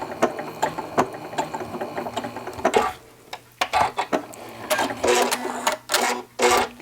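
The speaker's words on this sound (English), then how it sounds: "I'm going to stitch across" A sewing machine stitches across fabric tucks, its rapid clattering needle running in short bursts with brief pauses between them, loud and close.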